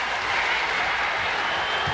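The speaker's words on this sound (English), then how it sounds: "The crowd responds. Sellout crowd here at the Meadowlands." A sellout crowd at the Meadowlands applauds and cheers at a 1993 Bulls versus Nets NBA basketball game, a loud, sustained wash of clapping filling the arena with no break.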